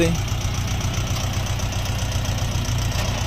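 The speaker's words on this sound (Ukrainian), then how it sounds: "Відвантажуємо тракторця" Lovol 354 mini tractor engine idling steadily at close range, a continuous low rumble with a knocking throb, with no breaks across the clip.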